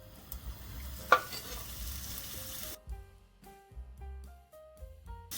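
Hissing sizzle as chicken fries in a pan at first, then quieter frying with clinks and scrapes of utensils against the cookware.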